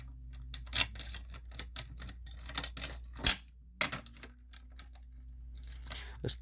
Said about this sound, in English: So we're gonna go ahead and reset the pull station.